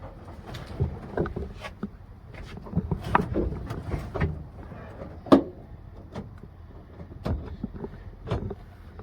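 A CRC SS shifter installed in a VW Bug is moved through the gears, making scattered close clunks and clicks of the lever and linkage over a quiet cabin background, with no talking.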